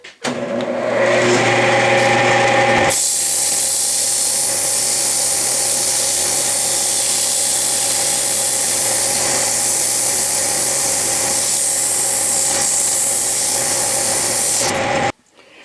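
A part spins on a Powermatic lathe while blue 80-grit abrasive cloth is pressed against it for polishing. A low motor hum gives way to a loud, steady, rasping hiss that runs unbroken for about twelve seconds before cutting off.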